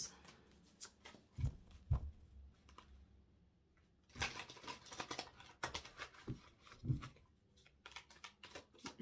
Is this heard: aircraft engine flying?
no